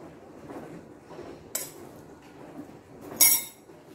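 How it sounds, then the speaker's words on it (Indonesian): A utensil scrapes and clinks against a bowl while cilok with shrimp, chili sauce and fried shallots is stirred, with two sharper metallic clinks standing out over soft mixing sounds. "Terus diaduk aja bareng."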